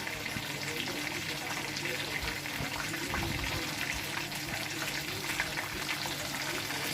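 Hot oil poured over tandoori chicken sizzles and crackles steadily and close by, with a constant frying hiss throughout.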